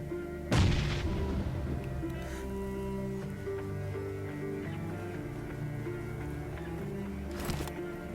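A sharp, heavy blast opens the sequence in a BGMI battle-royale match, with a second explosion near the end over a continuous rumbling game background; grenade blasts in the game, no speech.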